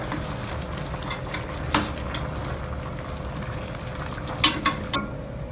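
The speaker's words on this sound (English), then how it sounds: "I'll give it a light stir." Food frying in a pan and being stirred lightly, with a low continuous sizzle and a handful of sharp utensil taps against the pan, the loudest near the end.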